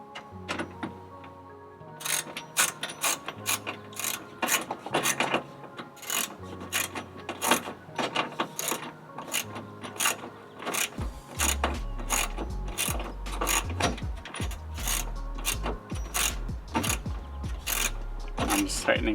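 A screw being tightened on a mud flap of a third-generation Toyota Tacoma, giving rapid ratcheting clicks close up. The clicks turn heavier and busier toward the end.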